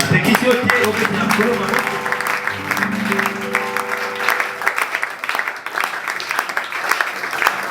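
A church congregation applauds and cheers in praise of the Lord, loud sustained clapping with sharp rhythmic claps; a voice and tonal music sit under it early on before fading to bare clapping.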